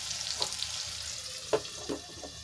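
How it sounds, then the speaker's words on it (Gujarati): Chopped onions cooking in oil in a covered pan hiss with a soft, steady sizzle, with a few faint clinks of utensils, quiet and close. "ડુંગળીને આપણે તેલમાં મિક્સ કરીને ઢાંકીને આપણે એને સોફ્ટ થવા દઈશું"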